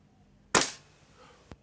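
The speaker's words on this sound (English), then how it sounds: "on a .2 BB, that was 333 feet per second. That feels a lot sharper." A Tokyo Marui MWS M4 gas blowback airsoft rifle fires a single sharp shot with .20 g BBs, a loud crack with a brief tail, then a fainter metallic clack about a second later.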